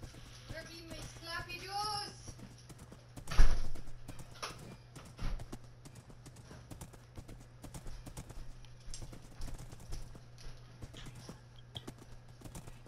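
Horse hooves clip-clop in the Minecraft video game, a steady run of light, evenly spaced hoofbeats under a low hum, with a person talking over the start and a louder knock partway through.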